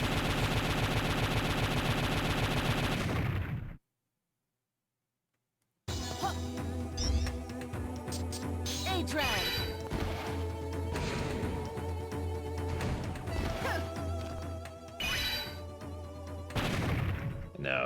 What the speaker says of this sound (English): Was that the sound of an explosion just now?